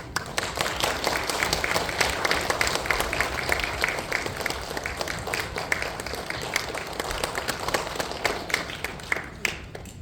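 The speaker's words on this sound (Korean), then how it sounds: "박수 하겠어요?" A church congregation applauds steadily for about ten seconds during a worship service, dense overlapping claps at an even loudness, tapering slightly at the end.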